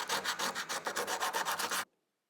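Steel card scraper rolled back and forth on sandpaper, a rapid run of about a dozen rhythmic rasping strokes, close and crisp, stopping abruptly into silence.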